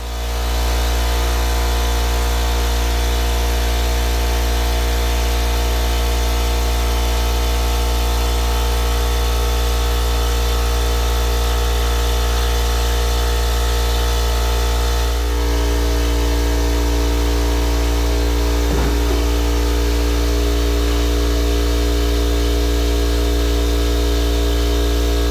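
A Briggs & Stratton power washer engine runs loud and steady at close range, a continuous droning hum with a brief shift partway through, then it keeps running evenly.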